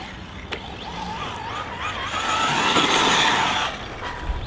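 Team Magic B8ER Special Edition 1/8 scale RC buggy driving, a high buzzing motor whine that rises and falls as it speeds up and slows, heard from a modest distance over outdoor background noise.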